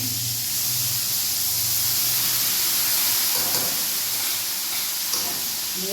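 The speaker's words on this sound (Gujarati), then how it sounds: "ટમેટા ડુંગળી ગ્રેવી વઘારી નાખીએ" Tomato and onion gravy sizzling as it is tempered in hot oil for pav bhaji, a steady loud hiss of frying that runs unbroken throughout with faint clinks beneath.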